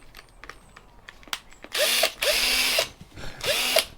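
An old lithium cordless drill, picked up as scrap, whirs in several short bursts: quiet clicks and handling first, then two loud revving runs separated by a brief pause, close to the microphone.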